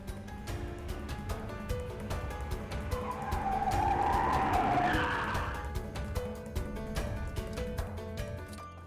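A car driven fast swerving with a drawn-out tyre skid that swells to a loud squeal midway and fades, over steady engine noise and a backing music score, no talk.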